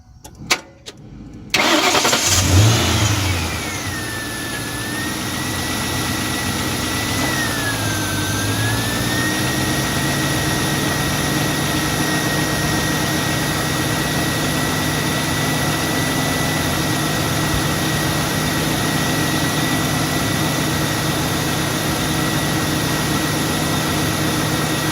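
A 2002 Mustang GT engine cranks and catches, then settles into a steady idle with the air conditioning on. A newly fitted radiator fan adds a constant whirring drone and a thin whine, close and unbroken for the rest of the clip.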